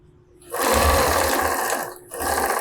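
A sewing machine stitches a straight seam on fabric for a multipurpose bag, running loud and close in one continuous burst, then briefly pausing before it whirs again.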